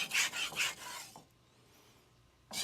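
A blade scrapes across a 400 grit DMD resin bonded diamond plate in a few quick rasping strokes, close and fairly quiet. A short pause follows before another stroke begins.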